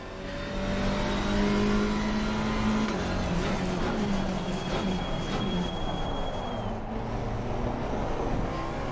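BMW GT race car in Assetto Corsa Competizione holding a loud, steady engine note along a straight, the pitch rising and then sliding down as it shifts or lifts off, with faint tyre noise and no talk.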